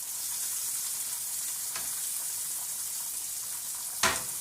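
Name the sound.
shrimp searing in a frying pan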